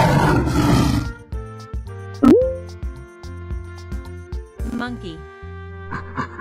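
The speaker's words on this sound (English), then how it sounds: "Lion." A lion gives one loud, rough roar lasting about a second, followed by a bouncy musical backing with light plucked notes.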